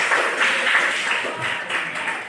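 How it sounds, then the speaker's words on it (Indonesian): Students in a classroom give a round of applause, a dense, fairly loud burst of many hands clapping that holds steady and then gradually thins out. "Kasih tepuk tangan"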